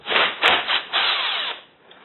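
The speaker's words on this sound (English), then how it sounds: "I'm going to ratchet and pull these motors off now" A hand ratchet works on the motors of a Subaru tumble generator valve, making a run of close, rhythmic rasping strokes that slow and fade near the end.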